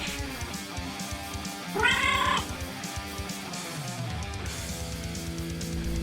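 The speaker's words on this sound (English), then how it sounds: "The Bebo series is about a cat with eyebrows and a cigar and his owner Harry" A cartoon cat in an early Newgrounds animation lets out one short, bright meow partway through, clearly above a busy soundtrack of background music and effects.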